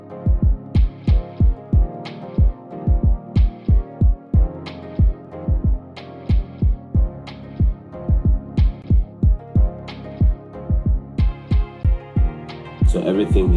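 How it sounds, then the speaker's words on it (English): A punchy kick drum thumps at a steady pulse through a mixed stereo hip-hop beat, deep booming hits in close pairs under brighter layered sounds; loud and upfront, with no talking. "My kick is just hitting where I want it to be."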